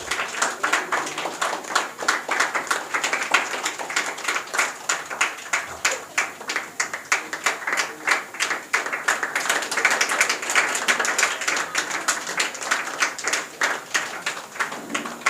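An audience at an academy's tenth-anniversary celebration claps steadily and loudly for about fifteen seconds, the dense patter of many hands sustained throughout with faint voices mixed in.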